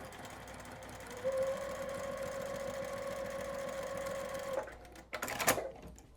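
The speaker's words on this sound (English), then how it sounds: "My sewing machine is a Juki." A Juki sewing machine hums steadily in a sustained stitching run on a quilt, then stops, followed by a few clicks and handling noises.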